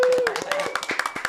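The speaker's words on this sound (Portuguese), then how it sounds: "Só quem recebe salário aplaude." Brief, lively clapping from a small group in a podcast studio, a quick run of sharp hand claps heard alongside a voice talking.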